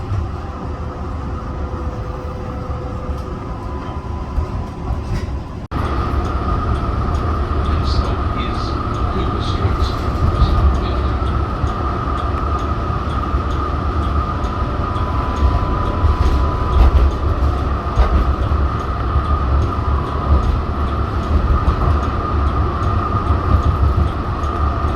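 Melbourne Yarra Trams B2 class tram running, a steady loud rumble of motor and wheels on rail, stepping up in level a few seconds in and holding constant, with faint clatter and squeal on top.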